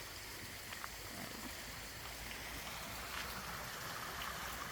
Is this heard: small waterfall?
yes